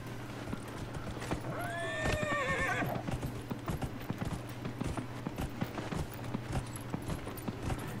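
Hooves of a horse in Dragon Age Inquisition clop in a steady, rapid gallop throughout, with a loud whinny rising near the start, over a low sustained music or ambient hum.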